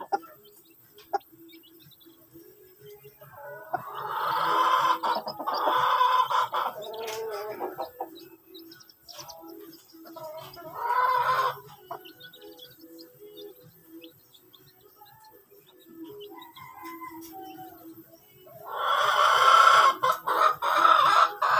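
Backyard chickens cluck and call in several bursts, with a hen clucking nearby and a louder flurry of vocalizing toward the end, quiet gaps in between.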